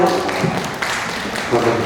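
Applause at a wedding ceremony in a hall, a steady wash of many hands clapping with voices mixed in throughout.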